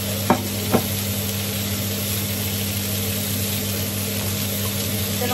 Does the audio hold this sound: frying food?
yes